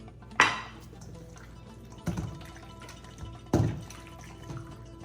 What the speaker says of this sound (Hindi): इसके बाद थोड़ा इसको मिक्स कर लेते हैं।